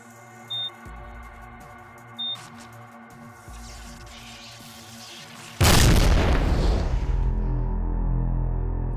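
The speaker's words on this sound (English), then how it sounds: "Detonates them with a remote control device." A remotely detonated breaching explosive from a SWAT team goes off as one loud, close blast that erupts midway and rumbles on after a quieter stretch of faint thumps and ticks.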